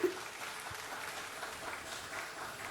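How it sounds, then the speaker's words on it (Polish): Steady crowd applause fills the whole stretch, a dense wash of clapping at moderate level, probably from a studio or concert audience at a song contest. "niech te brawa nie stygną"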